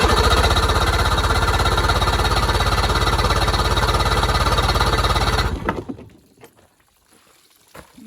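An outboard engine on a small Terhi boat runs with a loud, steady, fast pulsing drone for about five seconds, then sputters and dies, leaving quiet splashing and faint knocks.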